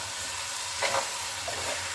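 Aloo gobhi curry is stirred in a pan on the stove, with a quiet, steady sizzle and two brief scraping strokes of the spoon partway through.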